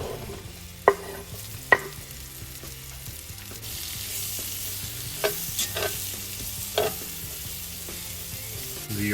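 Thinly sliced Vidalia onions sauté in rendered bacon fat with a soft, steady sizzle. Several sharp clanks and scrapes of stirring come through early on, then the frying carries on alone.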